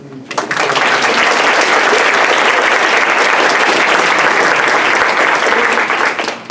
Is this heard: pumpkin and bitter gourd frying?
no